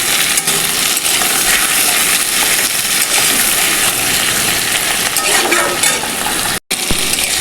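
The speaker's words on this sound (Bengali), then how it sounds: "টমেটোটা দিয়ে ভালো করে একটু ভাজা ভাজা করে নেব।" Chopped tomatoes fry in a pan for a rohu fish curry, giving a steady loud hiss and crackle that runs almost unbroken, with a brief gap near the end.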